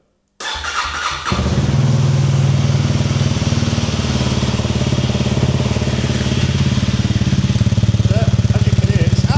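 A Honda motorcycle with a stock exhaust cranks and fires up after a brief click, then settles into a steady, loud, close idle with a rumbling, even beat.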